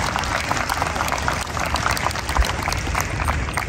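Dense applause from a graduation audience for a high school prep class fills the room, steady and moderately loud with crowd noise throughout.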